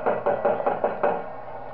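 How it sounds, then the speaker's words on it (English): Six quick, loud, muffled knocks land in a steady rhythm in the horror video game Five Nights at Wario's, close and alone, then stop and leave a brief quiet tail. "You got really concerning knocking."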